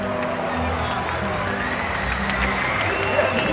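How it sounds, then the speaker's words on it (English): A crowd at a SeaWorld San Antonio killer whale show claps and cheers, a steady wash of applause mixed with shouting voices, including children, in an open outdoor stadium. "Go ahead and give yourselves a round of applause."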